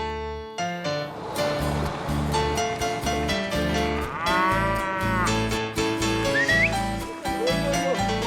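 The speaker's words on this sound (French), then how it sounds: "On y élève des vaches aussi à l'aise que dans les alpages." Cattle raised in hedged pastures of Colombia's Cauca region moo repeatedly, long loud calls overlapping one another, with a couple of higher whistle-like notes rising over the herd.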